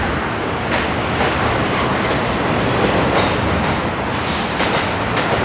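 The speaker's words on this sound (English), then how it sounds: "No, it's the W train." A New York City subway W train rushes past on the line between Manhattan and Queens, producing a loud, continuous roar with rattling wheel noise that stays close and steady throughout.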